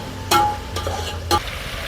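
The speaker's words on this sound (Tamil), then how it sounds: "அதையும் கரெக்டாக பிடிக்காத அளவுக்கு இந்த மாதிரி கிண்டி விட்டுக்கோங்க" Spoon stirring onions and tomatoes frying in a pan for Chennai-style chicken curry, a low steady sizzle broken by a few brief scraping strokes close by.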